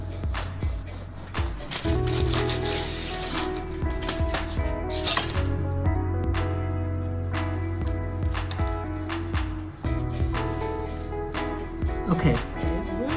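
Homemade bread being sliced with a knife on a kitchen counter, with repeated close clinks and scrapes of utensils and dishes against the board, under a person talking.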